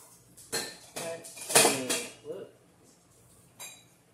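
A Revere Ware pan is handled with a handful of sharp metallic clanks and knocks, scattered irregularly and close by, with soft talking in between.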